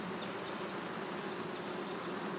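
Dense, steady buzzing of many honeybees swarming around a populous hive opened up for inspection, a continuous close drone with no voices.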